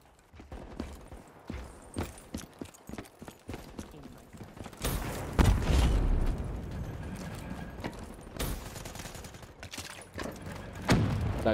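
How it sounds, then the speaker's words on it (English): Gunfire in Call of Duty Black Ops 3 beta multiplayer, scattered rapid bursts and thuds of shots at medium distance with louder volleys in the middle and at the end, set against busy battlefield clatter. "Who's shooting that thing at me?"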